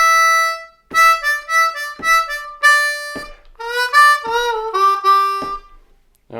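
Blues harmonica on a C harp runs three short licks back to back, with bright reedy phrases, bends and sustained draw notes under steady counting-free playing, close and loud, in rhythmic bursts separated by brief breaths.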